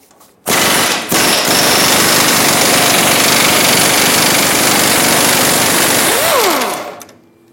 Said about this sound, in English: I'm going to put a socket on the nut side. I'm going to hold the bolt with a wrench and take this off